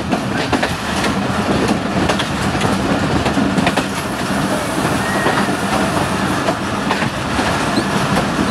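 A passenger train hauled by locomotive GU 49045 arrives at Gujrat station, rolling close by with loud, continuous rumbling and rhythmic clickety-clack of wheels over rail joints.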